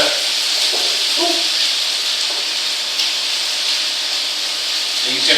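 Onions and vegetables for lamb hotpot sizzle and char in a hot pan, giving a loud, steady hiss that runs throughout with faint crackles and a brief stir near the end.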